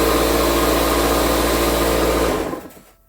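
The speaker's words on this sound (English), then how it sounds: "Shush, compressor." An air compressor runs loud and steady in a workshop during a chainsaw rebuild, a constant motor drone with harmonic hum that cuts out and fades to near silence in the final half second.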